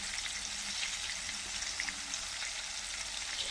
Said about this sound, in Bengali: তেল আমার গরম হয়ে গেছে, এবং মশলাটা দিয়ে দিলাম।